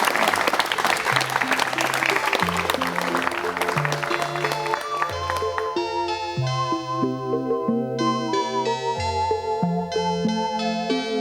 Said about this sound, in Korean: 여러분 환영의 박수를 부탁드리겠습니다.